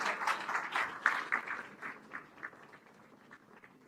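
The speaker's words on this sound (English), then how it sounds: "Please keep cheering for your classmates and friends" An audience applauds at a university graduation ceremony at Thapar Institute of Engineering & Technology, steady fairly distant clapping that is loudest at first and gradually thins and fades out.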